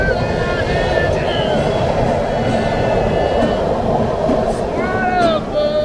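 A train passes close by, its steady rumbling roar holding throughout, with high squealing wheel tones rising and falling over it.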